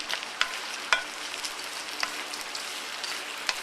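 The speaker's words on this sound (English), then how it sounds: "Gonna stir fry it a little bit." Vegetables stir frying in a hot pan give a steady, fairly soft sizzle and crackle, with scattered sharper pops and a few brief stirring scrapes; there is no talking.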